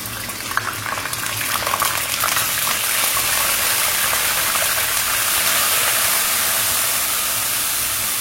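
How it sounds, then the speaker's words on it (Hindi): Ginger and garlic paste hitting a hot pan, giving a loud, steady, dense sizzling hiss that swells in the first seconds and then holds constant throughout. "गर्म होने के बाद मैं इसके अंदर अदरक और लहसुन का पेस्ट डालूंगी"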